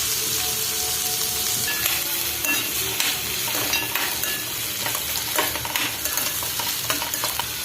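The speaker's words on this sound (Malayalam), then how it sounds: "പച്ചമുളക്, കറിവേപ്പില ഇത്രയും കൂടെ ഇട്ട് ഒന്ന് വഴറ്റാം" Green chillies, curry leaves and onion sauté in hot oil for Kerala-style egg bhurji, a steady close sizzle with scraping stirs of a spatula against the pan and no talking.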